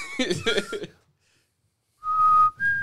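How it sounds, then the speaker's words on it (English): Brief talk, a pause, then a person whistles two steady tones, the second higher, thin and breathy, close by. "I tried to whistle, but I can't whistle"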